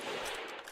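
A single gunshot blast in a World War I trench audio drama, loud and broad, filling the short moment alone with no voices over it.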